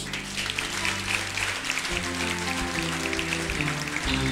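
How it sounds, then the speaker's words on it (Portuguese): A church congregation applauds during a worship service. The clapping is dense and sustained, with low, steady musical tones beneath it. "Vamos aplaudir nosso Deus."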